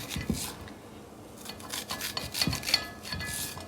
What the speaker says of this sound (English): Then you just cut it off the cob.